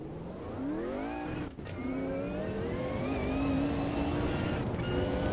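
Race car engine in the Automobilista 2 sim racing game, a steady rising and falling whine with gear-shift sweeps climbing and dropping through the revs, heard alone at moderate level.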